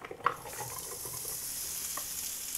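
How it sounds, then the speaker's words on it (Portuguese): Onion dropped into a hot pot while cooking Japanese-style curry, with an initial clatter and then a steady, fairly quiet frying sizzle that carries on evenly. "agora a gente vai entrar com a cebola"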